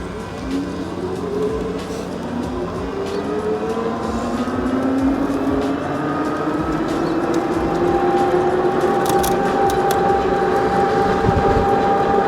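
Bee Challenger electric bike climbing a gradual incline on throttle, its motor whine rising steadily in pitch as it picks up speed, with continuous wind and road rush around it and no talking.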